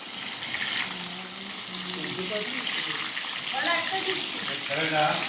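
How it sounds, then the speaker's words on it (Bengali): Eggplant slices frying in ghee in a pan in a home kitchen, a steady hissing sizzle with short tonal squeaks and clinks scattered over it, and people talking faintly in the background. "বেগুন ভাজা হচ্ছে।"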